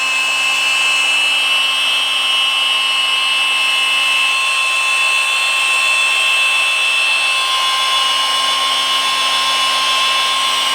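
A car polisher runs at speed 3, cutting paint with compound. It gives a loud, steady high-pitched whine that holds an even tone for the whole stretch, with no talking.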